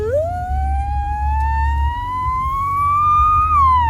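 A four-year-old child mimics a fire engine siren with one long voiced tone that rises gradually, peaks, then drops off at the end, sung close and clearly.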